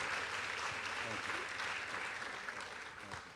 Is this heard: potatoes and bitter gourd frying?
no